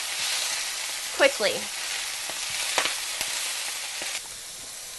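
Beet greens sizzle and fry in oil in a big skillet, a steady, close hiss with a few stirring scrapes, while a voice speaks briefly over it.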